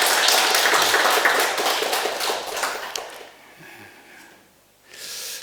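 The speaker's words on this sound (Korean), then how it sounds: "우리 박수 한번 더" An audience at a Korean Won Buddhist dharma talk claps in a brisk burst that runs about three seconds and then dies away, leaving quiet with a faint stir near the end.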